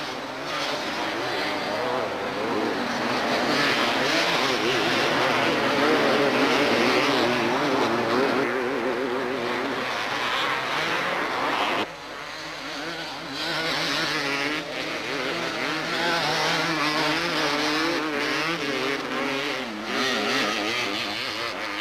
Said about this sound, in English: bike number 15 running in spot number 2, Dave Castle.